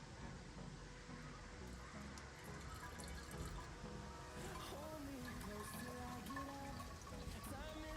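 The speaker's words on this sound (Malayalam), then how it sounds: "അപ്പോൾ ഇതിൽ വെള്ളം നിറച്ചിടാം കുപ്പിയിലേക്ക് വെള്ളം വരാൻ പോകട്ടോ" Water pours into a bottle with a rising, gurgling fill under a person talking nearby, the pitch climbing as the bottle fills.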